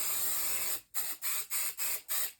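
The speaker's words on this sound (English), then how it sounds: "Let me spray a little bit more on the end here." Five quick bursts of spray from a bottle misting fabric for snippet rolls, following one long continuous spray, each a short hissing puff with brief gaps, close and fairly quiet.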